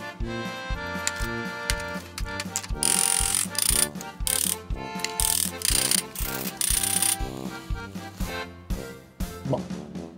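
A ratchet tensions a puller on a car part with rapid, repeated clicking strokes, loud and close, in bursts with brief pauses and no talk.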